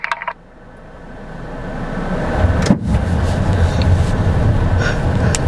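A Ford Bronco with a Duratorque engine in low range strains off-road to drag a stuck car, with a steady deep engine drone building in loudness over several seconds, close and continuous, with a brief sharp knock midway.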